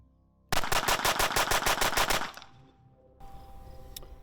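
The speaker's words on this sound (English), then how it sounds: "So 15, 16 is probably the average with the Glock" A Glock 43X pistol fires a fast string of about a dozen sharp, loud shots in quick, even rhythm at close range, followed by a brief quiet and faint background noise.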